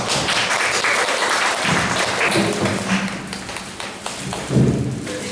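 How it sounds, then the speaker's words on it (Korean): An audience at a Žižek colloquium applauds a presenter, with dense, steady clapping that stays loud and close for the whole stretch. "다 같이 들으면 박수로 한번."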